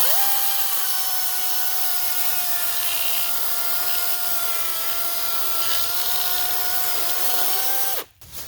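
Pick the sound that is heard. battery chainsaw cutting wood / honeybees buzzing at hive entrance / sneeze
battery chainsaw cutting wood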